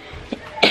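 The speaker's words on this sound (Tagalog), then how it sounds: "Medyo inuubo pa ako." One short, close cough from a woman still getting over a cold, a quick throaty burst after a faint rasp.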